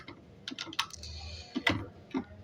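Typing Python code for a Django web app on a computer keyboard: a few quick clusters of key clicks with brief pauses, fairly close and moderately quiet, with no talking.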